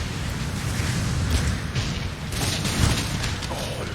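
Artillery fire support in Empire Total War, a steady rumble of low booms and distant blasts rolling on and on, with a louder swell late in the barrage.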